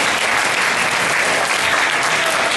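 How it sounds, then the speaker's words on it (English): A WonderCon panel audience claps steadily and loudly throughout, a dense wash of many hands with no pause. "Give yourselves a round of applause."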